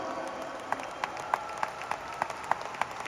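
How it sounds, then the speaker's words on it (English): An audience at a motivational team event claps in a faint, sparse, evenly spaced rhythm, each sharp clap standing out over a soft background hum. "Can we give our Vietnamese brothers a round of applause today?"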